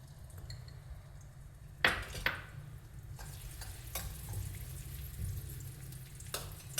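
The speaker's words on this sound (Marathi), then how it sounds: "मी टाकत आहे बारीक चिरलेला कांदा" Finely chopped onion frying in hot oil in a pot for a Nagpuri Saoji fish dish, a steady soft sizzle with a few sharp clanks of a spoon or pot.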